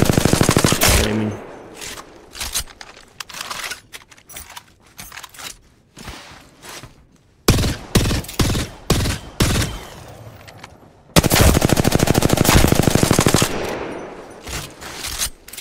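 Gunfire from weapons in the Apex Legends video game, with long sustained automatic bursts broken by sharp single and short-burst shots, loud and close, and no talking.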